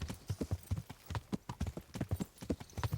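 Horse hooves clip-clop in the medieval game Kingdom Come: Deliverance, a quick, even trotting rhythm of many hoof strikes, fairly quiet and close, with no clear talk over it.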